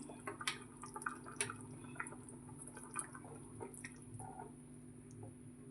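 Egg curry simmers gently in a pan, faint irregular bubbling and soft wet pops over a low steady background hum.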